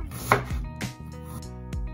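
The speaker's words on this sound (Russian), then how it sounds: "Нарезаем полукольцами лук" A knife slices an onion into half-rings on a cutting board in a few crisp strokes at an uneven pace, close and fairly quiet.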